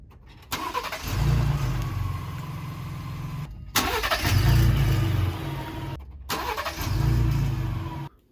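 A Ford Raptor with a cam phaser problem after a recall repair, its engine running in three bursts with a loud low rumble and rough revving, separated by brief silent cuts, close to the microphone.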